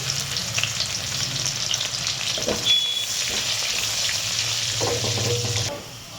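Garlic sizzles steadily in hot oil with dried red chillies in a pan while making mint chicken, a dense, loud continuous frying hiss with occasional stirring clatter and no talk.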